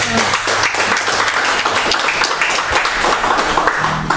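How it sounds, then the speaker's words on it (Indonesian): An audience at a televised interactive talk show with a brigadier general claps in a steady, dense burst of applause that carries through the whole moment, with a little speech mixed in. "Tepuk tangan dulu."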